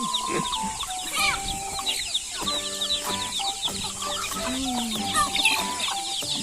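Several native Thai chickens cluck busily and continuously, close by, with overlapping calls and no talking.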